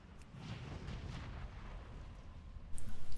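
Cannons in World of Warcraft fire in a string of quick, muffled booms that thump close together near the end, over a low, faint rumbling background.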